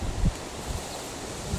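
Wind gusts buffet and rustle in a continuous broadband roar after a storm, with a couple of low thumps against the microphone.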